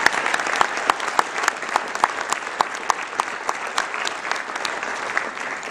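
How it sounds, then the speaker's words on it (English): Audience applause at a dinner event, a steady sustained burst of many hands clapping close by, dense and loud for the whole stretch with no talk over it. "so they deserve a huge round of applause"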